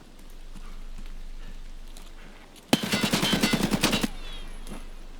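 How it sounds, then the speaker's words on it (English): Rapid machine gun fire in a tank video game erupts suddenly after a quiet stretch, a loud burst of closely spaced shots lasting over a second, then fading back to low background noise. "Oh, Mr. Cameraman, we're getting shot at."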